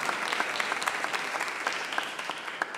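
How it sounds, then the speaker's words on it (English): Steady applause from a crowd, dense clapping continuing evenly throughout without a break. "there's applause."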